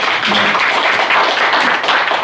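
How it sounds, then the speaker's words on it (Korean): Loud, dense applause fills a hall at an alumni association's annual general meeting, many hands clapping in a steady, unbroken wash from start to finish with no clear speech. "그 노고에 대해서 감사히 박수 한번 보내주세요."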